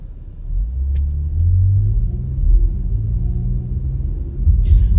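A 2022 Lexus RX350 pulls away from a neighborhood, a low engine and tire rumble that gradually builds, heard from inside the cabin with no talk.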